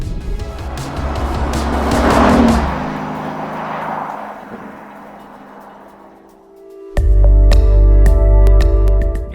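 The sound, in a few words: car exhaust noise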